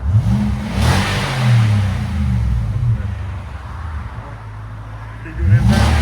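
A 2018 Nissan Armada's 5.6-liter V8 rumbles and revs through a Flowmaster Super 10 exhaust, with two sharp throttle blips at the start and end over a steady idle.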